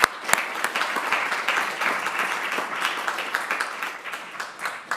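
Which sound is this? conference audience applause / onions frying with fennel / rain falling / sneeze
conference audience applause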